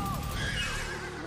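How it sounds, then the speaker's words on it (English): A cartoon horse neighs, a loud whinny with a wavering pitch that fills the short moment, with light hoof clip-clops underneath. "Are you turning into a horse, Amethyst?"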